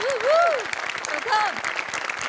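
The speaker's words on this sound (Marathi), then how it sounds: "जोरदार टाळ्या व्हायला" A studio audience at a Marathi comedy show claps in a dense, steady burst of applause, with a voice talking over it.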